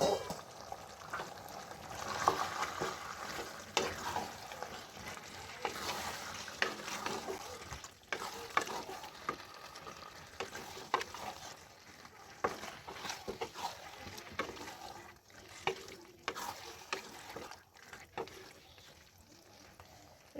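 Marinated chicken fries in a pan for a pulao and chicken curry, a faint steady sizzle under occasional stirring scrapes and clinks, with brief speech now and then.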